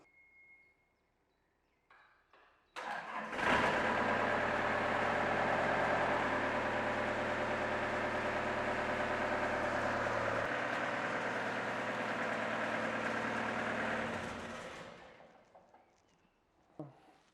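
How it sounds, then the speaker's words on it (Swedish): An excavator's diesel engine starts with a sharp burst, then idles steadily at a low, heavy rumble for about ten seconds before shutting off, during an oil change. "Men innan vi får resten ska vi starta motorn kort."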